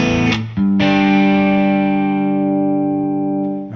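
Electric guitar through a Fuchs Overdrive Supreme pedal: a distorted chord is struck, briefly cut, then struck again and left ringing loud with a long sustain that slowly fades.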